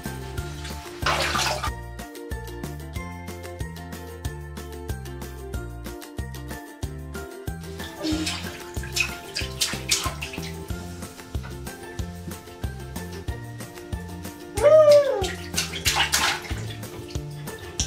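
Water runs and splashes in bursts while a one-year-old's hair is washed in a bath, the intermittent gushes sitting under steady background music.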